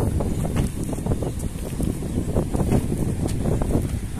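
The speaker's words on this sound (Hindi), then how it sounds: "और ये फ्लैग देखो कितनी हवा चल रही है," Strong wind blows outdoors past a flag, roaring continuously and loudly with gusty buffeting rumble against the microphone.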